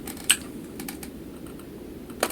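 Sparse clicks from a mechanical computer keyboard, with a few isolated keystrokes spread over a couple of seconds and one sharper, louder key press near the start and another near the end.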